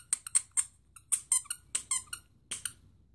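A small dog with huge ears chomps a Tigger squeaky toy, producing about a dozen sharp, high squeaks in quick uneven bursts, loud and close against a quiet background with no speech.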